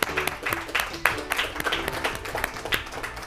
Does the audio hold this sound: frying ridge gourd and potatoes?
no